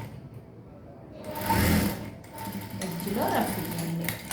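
A sewing machine stitching a kids' lehenga runs in short bursts of whirring stitches, with a voice talking over and between the runs.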